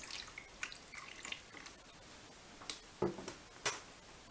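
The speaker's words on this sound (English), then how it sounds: "I'm going to pour my water into the filter and see what we get out the bottom" Water dripping from the bottom of a homemade layered water filter after water is poured in, a scattering of faint, irregular drips and small splashes, close but quiet, with no talk.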